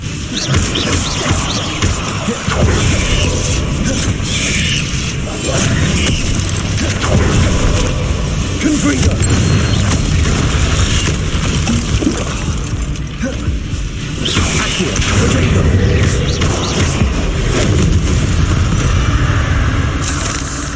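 Explosions from the Confringo spell in Hogwarts Legacy come amid constant combat clatter, with blasts and crashing impacts in a loud, dense mix throughout.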